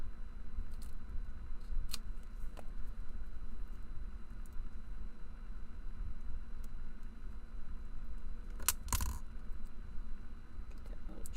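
Scissors snip through tissue paper in a couple of quick, crisp cuts, one early and a sharper pair near the end, over a steady low room hum.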